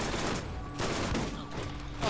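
An enemy shotgun fires repeatedly in the video game Borderlands, loud rough blasts coming in bursts amid continuous dense battle noise.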